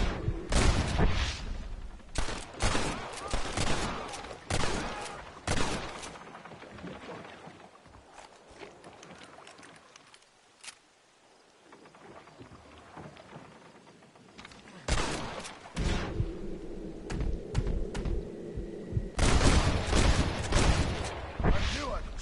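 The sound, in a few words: gunfire in the video game Red Dead Redemption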